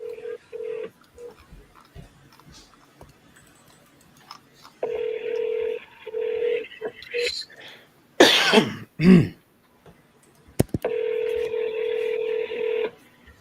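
Telephone dialing tones sound as a quick run of short beeps, then a longer sequence after a pause. A cough and throat clearing fall between them, and the tones are close and clear.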